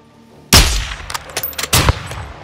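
Sniper rifle shots ring out in the Call of Duty Modern Warfare 2022 campaign: one sharp, loud crack followed by a rapid string of further shots and reports over about two seconds, with no talking.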